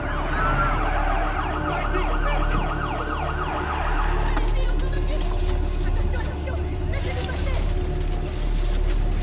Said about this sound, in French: il y a clairement plein d'ambulances qui arrivent en même temps sur le parking